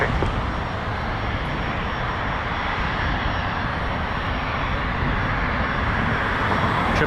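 An Air India Boeing 777 jet airliner at Toronto Pearson airport gives a steady, loud, broadband engine roar that holds constant throughout, with no talking.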